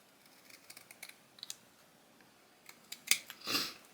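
Scissors snip away extra paper from a papercraft support beam part, a series of small, close, crisp cuts spaced irregularly, with a few louder snips and a rustle of paper toward the end, all quiet and without talk.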